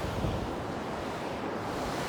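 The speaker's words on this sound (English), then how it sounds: "So there's waves. It's pretty." Ocean surf at Belmar Beach gives a steady, broad wash of breaking waves, loud and unbroken for two seconds, with some wind mixed in.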